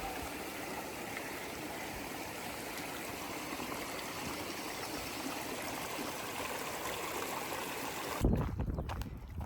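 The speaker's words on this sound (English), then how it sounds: "River crossing." A stream flows steadily at a river crossing on the Appalachian Trail, a close, constant rushing of water that ends in a brief burst of nearby handling noise.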